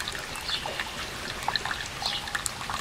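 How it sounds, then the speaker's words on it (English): Water draining from a humidifier steam generator down toward the purge pipe outlet, a soft continuous trickle with scattered faint drips and splashes, heard alone. "So this will continue to drain until it gets down below the purge pipe outlet."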